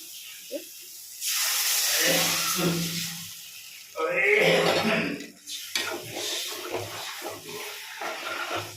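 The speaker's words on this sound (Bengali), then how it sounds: "এবার জল দিয়ে দেবো পরিমাণ মতো" Water poured into a hot pan of fried spice mix for a fish curry hits with a loud hissing sizzle in two long bursts, then a softer crackle continues.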